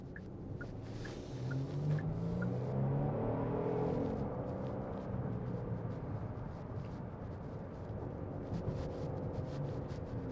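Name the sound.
Genesis GV70 3.5T engine, throaty sound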